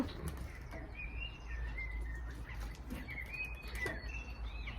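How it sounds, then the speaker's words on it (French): Small birds sing in the high mountains, with thin, clear whistled phrases and short chirps repeating over a low, steady background rumble, moderately distant, with no speech. "on profite des chants des oiseaux"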